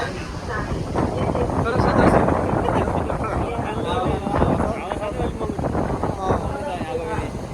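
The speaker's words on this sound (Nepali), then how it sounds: "हावा चाहिँ यहाँ खान आउनु पर्ने" Steady wind buffets the microphone with a constant rumbling roar, loud and unbroken throughout.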